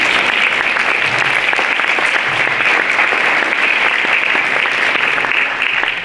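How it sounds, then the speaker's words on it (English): Sustained applause from a dinner audience at a Catholic high school's annual dinner and lecture, steady and dense from start to finish with no talking over it. "Give yourself a round of applause."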